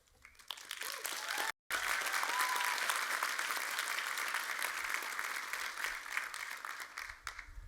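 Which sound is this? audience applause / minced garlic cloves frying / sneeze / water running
audience applause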